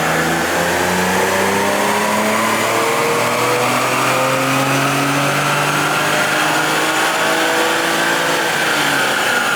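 Stock BMW N54 engine revving hard on a chassis dyno, a loud continuous drone with harmonics sweeping upward as it climbs through the gears, steady and close throughout.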